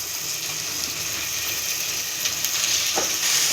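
Tomatoes going into a pan of sautéing onions with rock salt, a steady close frying sizzle and hiss running throughout with no talk.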